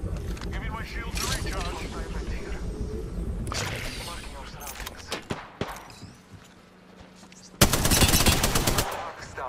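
Gunfire in Apex Legends: bursts of rapid automatic shots and sharp single cracks, some near and loud, others more distant, mixed with game noise and a loud closing volley, while players talk over it.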